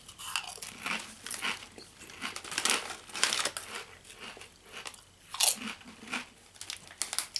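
Close-up crunching bites and chewing of sour cream and onion Quest protein potato chips, irregular crisp crackles coming in quick bursts with short pauses, with no talking.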